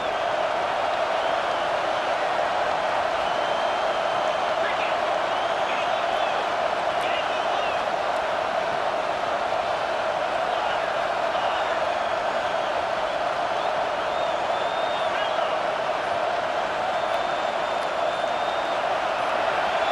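Steady stadium crowd roar from the College Football 25 video game, a dense continuous wash of cheering fans that holds loud and even throughout without breaks, with no voices standing out clearly.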